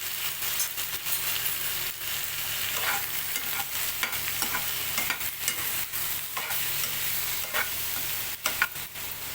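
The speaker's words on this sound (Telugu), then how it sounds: "ఆయిల్ వేసుకొని ఇలా వేయించుకోవడానికి ముందుగా కట్ చేసుకున్న టమాటా, ఉల్లిగడ్డ, పచ్చిమిర్చి అయితే వేసి కొంచెం వేయించుకోవాలి." Chopped tomato, onion and green chilli fry in hot oil in a pan, giving a continuous close sizzle broken by frequent scraping and clinking stirs of a spatula, with no one speaking.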